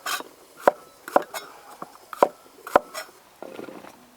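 A knife chops meat on a board for a minced meat filling, with about four sharp, evenly spaced thuds and lighter taps between them, close and clear in a quiet kitchen.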